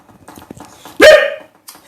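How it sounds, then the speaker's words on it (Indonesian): A single loud, close dog bark bursts out midway, preceded by faint background sounds and followed by quiet, in a home kitchen. "Coba jangan gonggong weh."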